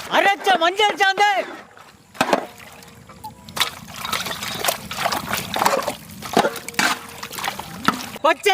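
Plain water poured into a pot of young mutton gravy with ground turmeric paste, cooking outdoors in a village kitchen; splashing, trickling pours run through the clip, with a voice talking over them.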